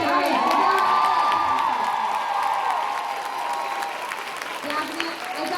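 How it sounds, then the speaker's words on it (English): A convention panel audience for Legends of Tomorrow at ClexaCon 2018 bursts into loud cheering, whooping and clapping, a dense crowd roar with high shouts that peaks early and slowly settles. "I thought that was you cheering for yourself"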